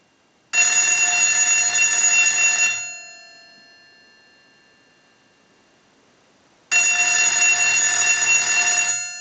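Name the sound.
brass rotary telephone ringing during analyzer ring cycle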